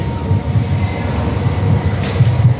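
A Mumbai underground metro train on Aqua Line 3 between Aarey JVLR and Kotak BKC rumbles steadily and loudly from inside the carriage, with faint rhythmic wheel clatter and no voices.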